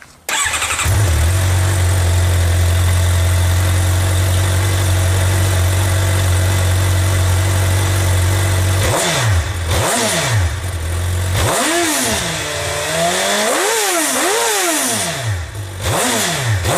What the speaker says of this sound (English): I'm just going to rev it with the stock exhaust